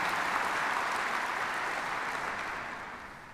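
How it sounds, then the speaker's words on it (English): A large graduation audience applauds in a steady, distant wash of clapping that slowly fades near the end. "How about a round of applause for that,"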